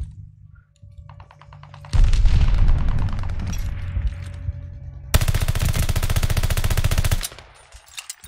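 Sustained automatic gunfire in the shooter game Call of Duty: Vanguard, with rapid rattling bursts after a quiet start, a brief lull, then a second long loud burst that cuts off abruptly.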